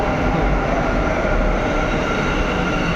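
A metro train pulling into a Bangalore station, a loud continuous rumbling roar of wheels and carriages filling the platform without pause.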